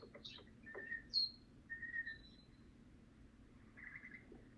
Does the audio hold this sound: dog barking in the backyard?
no